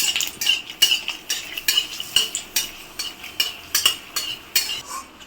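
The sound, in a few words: dry red chillies frying in mustard oil, stirred in a wok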